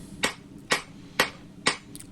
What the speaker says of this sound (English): I'm just picking that hammer up and letting it kind of fall.